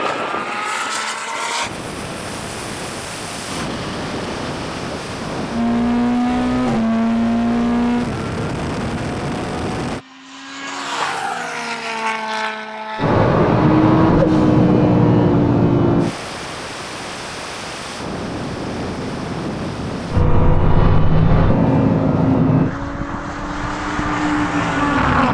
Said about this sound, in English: That was the weirdest drag race ever.